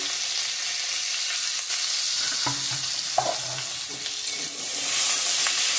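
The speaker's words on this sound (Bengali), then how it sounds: "করলা গাজর আলু একসঙ্গে ভাজা করব, হালকা স্টিম দিয়ে ভাজছি" Bitter gourd, carrot and potato with salt and turmeric fry together in a pan, giving a close, steady sizzle with occasional scraping and stirring clinks.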